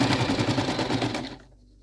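A sewing machine stitches fabric for an underarm gusset in a fast, even mechanical chatter close by, then stops abruptly near the end, leaving quiet.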